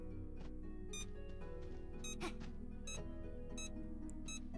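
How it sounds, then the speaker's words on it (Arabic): A box in the video game Supraland Six Inches gives off repeated electronic beeps as the player approaches, a steady run of short tones over a constant low background hum. "هذا يقول لك كل ما تقرب عند الصندوق يديك بيب"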